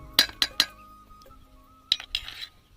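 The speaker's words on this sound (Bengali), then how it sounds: "এবার আমি ব্রেটারের মধ্যে হাফ চামচ বেকিং পাউডার দিয়ে দিচ্ছি" A spoon clinks against a bowl while half a spoonful of baking powder goes into semolina batter: three quick taps, a quiet pause, then two more faint clinks and a soft scrape, close and alone.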